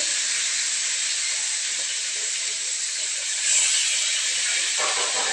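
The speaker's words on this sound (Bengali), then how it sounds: "এখন হলো যে মাছ ভেজে নিচ্ছে।" Fish fries in hot oil with a constant, loud bright sizzle, an unbroken hiss that holds steady throughout with a slight surge partway through.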